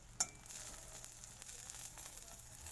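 Close, even sizzling of singi fish roe frying in a pan, with a sharp clink at the start and faint stirring sounds; no one speaks.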